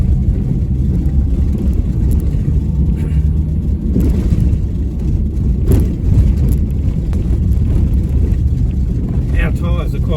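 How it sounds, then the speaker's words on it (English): 4x4 Sprinter van on low tyres driving over a rocky desert track in the Simpson Desert, heard from inside as a loud steady low engine and road rumble with occasional bumps and rattles, people talking over it. "driving through all this rocky stuff, and there's other areas where the rocks are actually on the road and in the road"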